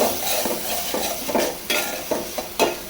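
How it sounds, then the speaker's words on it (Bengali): Prawns and spice masala fry together in a pan under a strong steady sizzle, while a utensil scrapes and taps the pan in repeated strokes, nearby and with no one speaking. "চিংড়ি মাছ আর মশলা একবারে কষাই নিচ্ছি"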